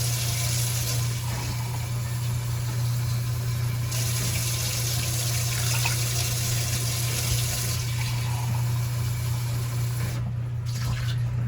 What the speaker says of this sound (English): And then I'm going to add water to top.